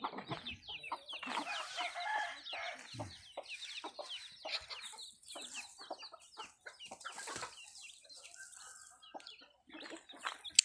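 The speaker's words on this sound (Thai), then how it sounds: "ไก่กาครับ" Chickens cluck and chatter repeatedly outdoors by rice fields in rural Sakon Nakhon, Thailand, with a rooster's voice mixed in, fairly close and steady throughout.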